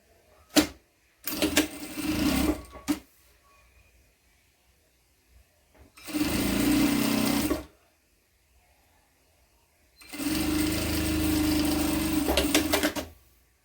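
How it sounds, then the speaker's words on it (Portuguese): A sewing machine stitches a seam on a cloth diaper in three separate bursts of steady running, each a few seconds long with short pauses between, close and clear with no talking. "é aqui que eu vou me guiar para fazer a costura"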